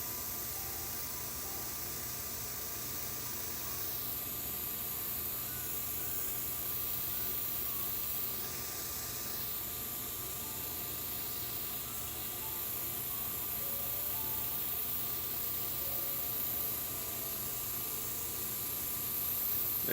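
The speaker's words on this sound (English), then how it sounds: "But it's not spraying good." An airbrush sprays thinned paint while weathering an HO scale model building, a steady airy hiss that runs continuously and stays even in level, alone with no talk.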